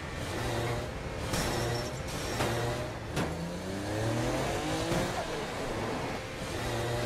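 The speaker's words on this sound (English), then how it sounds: "driving is fast, fluid, and fun. You can stop on a dime, power slide around corners, or even flip the car 180 degrees" A car in the video game Saints Row: The Third races and power slides, its mid-pitched engine revving up and down in repeated sweeps with sharp clicks and tire noise, loud and close, with no talk.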